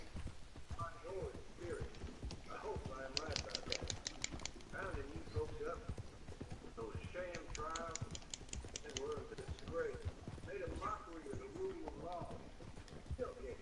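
Horse hooves clip-clop in a rapid galloping rhythm while riding in Red Dead Redemption 2, steady and close under near-constant talk from players throughout.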